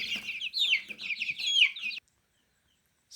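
Chickens, including Wyandottes, cluck busily inside a backyard breeding coop, a close, continuous chatter of overlapping clucks for about two seconds before falling silent.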